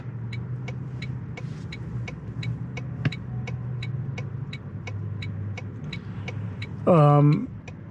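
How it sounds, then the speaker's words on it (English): Toyota Tundra Hybrid pickup with a twin-turbo V6 and hybrid motor, heard from inside as a steady low engine drone with a regular ticking click throughout and a brief louder tonal burst near the end. "It's a twin turbo V6, and you can also hear the hybrid motor kind of kicking in with it"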